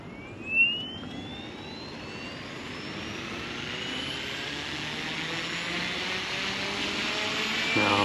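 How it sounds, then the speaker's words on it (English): An XL Power Nimbus 550 RC helicopter motor spools up, a rising whine that climbs steadily over several seconds and settles into a sustained high-pitched hum, alone with no talking. "I'm going to go ahead and spool it up. Motor on."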